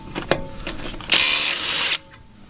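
A Dewalt 20V XR brushless impact driver with a half-inch adapter and impact socket hammers off nuts torqued to about 120 foot-pounds, a loud rattling burst lasting about a second after a few light clicks, then cutting off abruptly.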